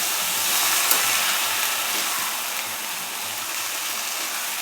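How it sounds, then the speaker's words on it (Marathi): Fenugreek leaves (methi) sautéing in hot oil in a pan, a steady loud broadband sizzle and hiss that holds without a break. "भाजी पूर्ण आपल्या तेलात परतून घ्यायची आता."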